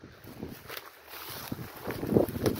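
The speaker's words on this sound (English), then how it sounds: "Let's go there because it's so windy here." Outdoor wind gusts rush and buffet the microphone, a rough low rumble that swells and eases, growing stronger toward the end, with no clear voices.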